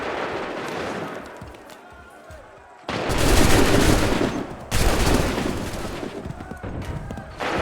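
Volleys of musket gunfire ring out in the Assassin's Creed III video game, two dense loud bursts of overlapping shots with crackling tails following a quieter stretch.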